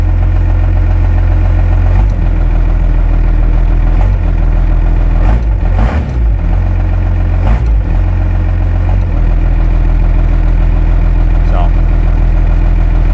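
An old engine idles steadily after running for about ten minutes, a loud continuous low rumble with a few brief throttle blips and knocks partway through.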